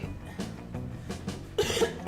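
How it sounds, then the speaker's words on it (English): A single person gives a loud cough while playing the game Monster Con, a sharp burst near the end after a stretch of low background game sound, close and abrupt. "Didn't mean to cough so loud."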